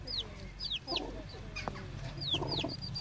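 Hen clucking to her young chicks on a homestead poultry farm, soft close clucks repeated in short groups, with a few thin high chick peeps mixed in and a faint background murmur.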